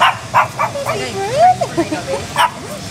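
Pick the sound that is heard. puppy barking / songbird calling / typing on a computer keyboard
puppy barking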